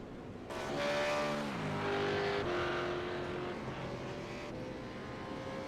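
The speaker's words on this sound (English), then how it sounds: "Waiting for the final few cars to cross the finish line." Race cars in a sim racing esports round crossing the finish line, engine tones rising and shifting as several cars pass, a steady loud blend of revving engines.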